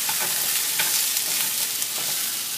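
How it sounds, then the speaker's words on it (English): Chopped vegetables sauté in a pot as the base for chili, making a dense continuous sizzle with occasional stirring scrapes, close and steady with no talking. "now we're gonna saute them like that"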